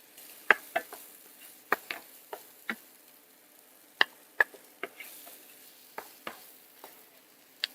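Halved grape tomatoes, garlic and onion cook quietly in a pan for a dairy-free creamy pasta. A soft sizzle runs throughout, broken by scattered sharp clicks and taps from stirring, with no talking.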